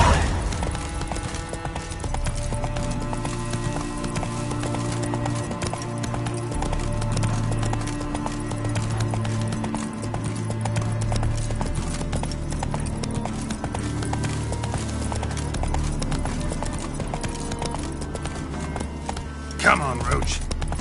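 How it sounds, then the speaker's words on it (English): Hooves of the horse Roach clip-clop steadily at a gallop in The Witcher 3 on PS5, a continuous rhythmic beat under game music and ambience, with a brief whinny-like burst near the end. "Run, Roach"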